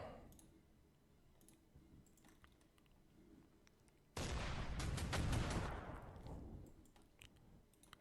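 Naval guns firing during a fleet battle in a video game, with a sudden loud burst of rapid cracking shots that rings on and fades after several quiet seconds of faint clicks.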